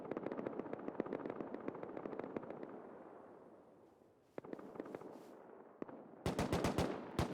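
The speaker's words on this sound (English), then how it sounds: "So the attack helicopter will be taken down." Rapid automatic gunfire in the Rust video game, aimed at an attack helicopter, rattles in a dense burst that thins into scattered shots, then a loud close volley breaks out at the end.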